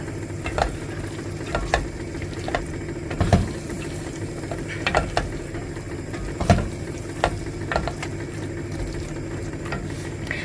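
Dried ingredients stir-fried in a pan for the Iranian stew Khoresht Gheimeh: a steady, soft sizzle runs throughout, with a spatula scraping and clacking against the pan every second or so, close and fairly quiet.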